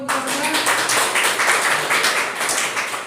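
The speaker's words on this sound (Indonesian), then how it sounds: "Tepuk tangan aplaus untuk teman-teman." Students in a civics class clap for their classmates, a lively, steady round of applause that starts abruptly and carries on at a fairly even level, with little talk.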